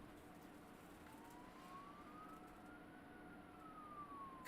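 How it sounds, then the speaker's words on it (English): An ambulance siren passes outside, heard faintly from a distance as a single wailing tone that slowly rises and then falls away over steady indoor background hiss. "God, I love ambulances."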